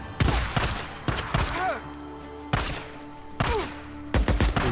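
Gunshots ring out in Days Gone, a handful of sharp, loud reports spaced a second or so apart with short tails, fired while taking headshots on enemies, with an ambient hum between shots.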